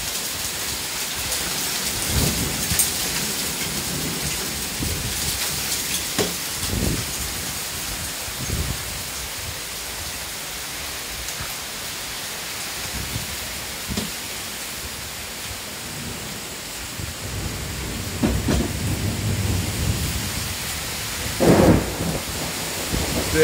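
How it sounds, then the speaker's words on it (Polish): A thunderstorm with heavy rain and hail in Strzelce Opolskie, Poland: dense rain roars steadily on surfaces while deep thunder rumbles roll repeatedly, some close and loud, others distant. "Ty, ale to jest jakaś nawałnica."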